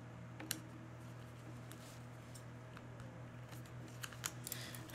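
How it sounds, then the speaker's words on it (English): Scissors snip at the tag on a pair of socks: faint, scattered little clicks and snips over a low steady electrical hum, quiet and close, with no talking. "Let me cut the tag on this so I can show you."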